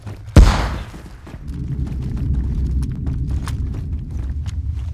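A grenade detonates in the video game DayZ with one sudden heavy blast, followed by a low, rumbling roar that lingers for several seconds.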